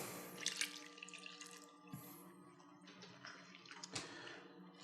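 Stock pours steadily into a pot of pumpkin risotto with a soft splashing, trickling wash, close by and moderately quiet, with a few brief clinks.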